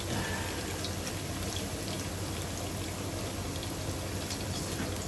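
Rinse water from a blender is poured into Kedah-style sambal tumis with dried squid cooking in a pot, giving a steady, continuous pouring and splashing wash with low bubbling underneath, alone with no talk.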